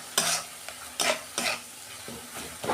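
Banana flower and prawns stir-fried in a pan. A spatula scrapes and stirs in several separate strokes, each with a soft hiss of sizzling and the faint clink of utensil against pan, close and quiet.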